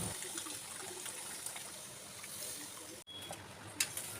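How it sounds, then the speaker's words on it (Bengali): Water poured into a pan of fish curry on the stove, a steady soft gushing pour that cuts off briefly near the end, quiet and close, with no talking. "এবার পরিমাণ মতন জল দিয়ে একটু সময় ফুটিয়ে নেব।"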